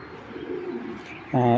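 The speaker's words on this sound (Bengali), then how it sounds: "চলুন কবুতর দুটাকে দেখাই" A pair of silver pigeons gives low murmuring coos, followed near the end by a brief, louder harmonic voice-like sound close by.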